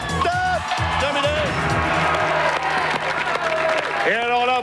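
A studio audience on the French game show L'or à l'appel breaks into loud, sustained applause and cheering while a host's voice rings over the clapping throughout.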